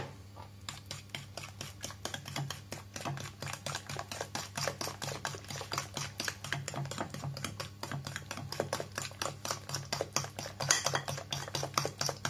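Corn cookie dough with oil being stirred by hand in a bowl, a steady run of quick scraping and tapping strokes that carries on evenly throughout, close and moderately loud with no talking.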